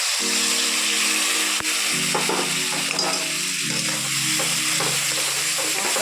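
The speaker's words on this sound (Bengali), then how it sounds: "ভাজা হয়ে গেছে, এবার আমি মশলাটা দিয়ে দিচ্ছি।" Potatoes frying in a pan give off a loud, steady sizzle as spices including Kashmiri chilli powder are stirred in. A sharp knock comes early, followed by a few scraping stirs.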